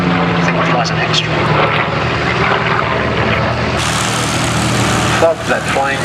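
A Douglas Skyraider propeller warplane flies past at the Duxford airshow, its loud, steady piston-engine drone filling the whole clip, with an airshow crowd and voices murmuring underneath.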